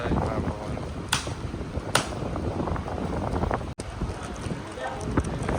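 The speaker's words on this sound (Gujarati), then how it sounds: "ફૂલ પવન છે એમ કહેવાય ને" Strong, steady wind buffets the microphone throughout, a constant roaring rush with a couple of brief sharp gusts, and faint voices mixed in underneath.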